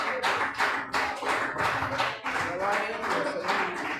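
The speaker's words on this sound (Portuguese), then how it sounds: "As palmas agradecem o nome do Senhor" A congregation in a church service claps in a steady, rhythmic beat, the full, close sound repeating evenly with a voice carrying over the clapping.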